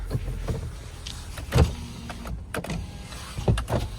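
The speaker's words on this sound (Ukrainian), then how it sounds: "Склопідйомники. працюють" Power windows on a Hyundai Tucson 2.0 run in short bursts, several whirring motor strokes with clicks and thumps as the glass stops, heard close inside the car.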